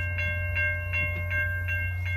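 A passenger train on a heritage re-enactment run between Winnipeg and Dauphin rolls along the rails, a steady low rumble and hum inside the car punctuated by regular, evenly spaced clicks of the wheels.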